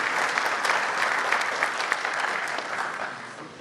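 An audience at a natural farming convention in Jammu applauds steadily, a dense, even wash of many hands clapping that fades slightly toward the end, with no voices over it.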